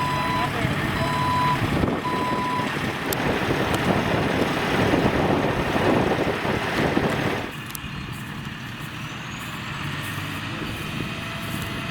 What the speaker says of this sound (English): Tow truck is on scene.